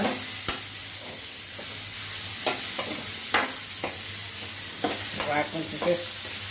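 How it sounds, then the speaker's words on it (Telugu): Beetroot curry fries in a pan with a steady sizzling hiss while a spoon stirs and scrapes against the pan in irregular clinks and knocks, close up and without talk. "కొంచెం వేయించుకోవాలి"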